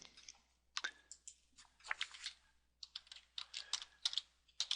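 Computer keyboard typing in bursts of quick, light key clicks, close and quiet, with short pauses between runs of keystrokes.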